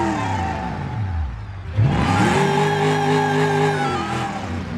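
A car engine in the driving game BeamNG.drive revs on the throttle, its pitch dipping and then climbing into a loud, sustained whine that holds steady near the listener.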